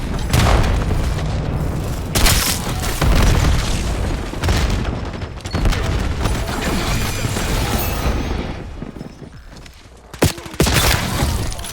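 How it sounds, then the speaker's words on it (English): Semtex grenade blasts in Black Ops 7 boom loudly and repeatedly amid a dense, continuous barrage of gunfire and crashes, with one brief lull before the final bursts. "Eyes on hostile Semtex."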